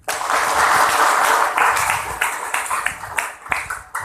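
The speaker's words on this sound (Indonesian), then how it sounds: "Tepuk tangan." Applause from an audience at a PDI Perjuangan party event in Pemalang, a dense wash of clapping that is loud at first and gradually thins, with a few sharper claps standing out near the end.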